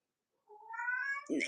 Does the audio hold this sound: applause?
no